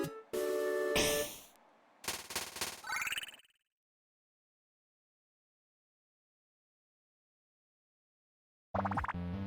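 Gunfire from the Magicat mobile game boss fight: a loud burst of rapid synthetic shots and chirpy effects, a second choppier volley, then silence until a sudden loud burst returns at the end.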